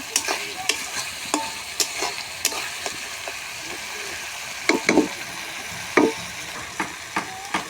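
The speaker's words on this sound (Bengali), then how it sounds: "এক চামচ দিয়ে প্রথমে মিক্সড করে নিই আর টমেটো কুচিও দিয়ে দিয়েছিলাম এর মধ্যে" Spoon stirring chicken with chopped tomato and chicken masala in a pan over a clay stove, sharp scraping clacks at an irregular pace over a steady low sizzle, close and moderately loud, no talking.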